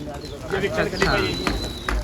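Pigeons on a rooftop loft coo in short, soft repeated calls close by, with people talking over them.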